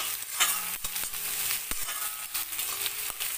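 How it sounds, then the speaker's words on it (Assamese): Whole cumin and panch phoron stirred in hot oil produce a bright crackling sizzle with several sharp spoon knocks against the pan, close and busy for a few seconds with no talk. "এতিয়া ইয়াতে গোটা জিৰা অকণমান এয়া দি দিছোঁ আৰু পাঁচফোৰণ অকণমান দি দিছোঁ। লৰাই দিছোঁ।"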